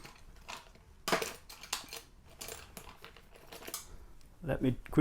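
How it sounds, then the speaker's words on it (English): A keycap pried off a Commodore 64 keyboard, giving a few sharp plastic clicks and scrapes with a louder cluster of snaps near the end, while someone talks between them. "take off one of the keycaps so you can see what I mean"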